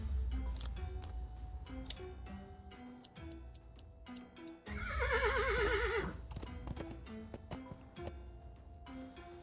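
A horse in the point-and-click adventure game Willy Morgan whinnies loudly with a wavering neigh midway, preceded and followed by light clip-clopping hooves and clicking ticks against a steady game backdrop.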